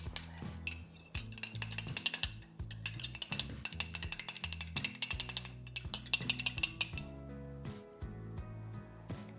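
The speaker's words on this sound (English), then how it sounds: "I'm going to scramble my egg or mix it up a little bit" A fork whisks a farm-fresh egg in a bowl with rapid, rhythmic clinking taps against the bowl, close and fairly quiet, continuing steadily for several seconds before easing off.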